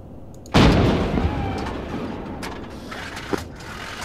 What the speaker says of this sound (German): Ich glaube, der BMP ist vielleicht explodiert.